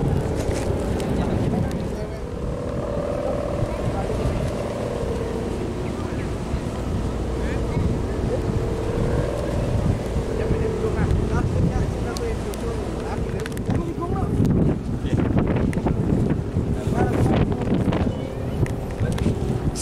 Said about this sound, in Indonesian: Semakin sore anginnya semakin kencang